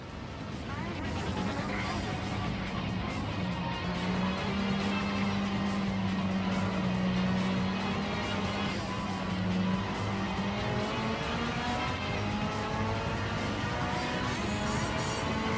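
A car engine in the racing video game Gran Turismo 7 holds a steady, sustained drone with rising and falling harmonic tones as the revs shift, running continuously at a constant, fairly loud level.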